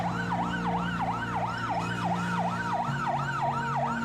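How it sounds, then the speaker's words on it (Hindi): An ambulance siren wails outside a hospital during the Covid surge, a steady rising-and-falling yelp repeating about every third of a second, loud and close over a low engine and traffic hum. "हर 10 मिनट में एक एम्बुलेंस आ रही है"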